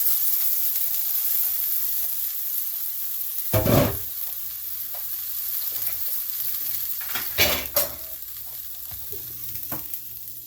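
Ground beef and egg fry in a pan over high heat, giving a steady soft sizzle, with a few louder bursts of stirring and scraping against the pan.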